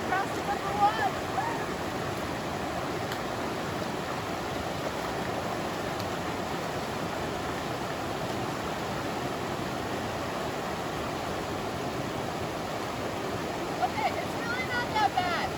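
Steady broadband rush of a river at a trail river crossing on a mountain hiking route, continuous and close with no clear breaks.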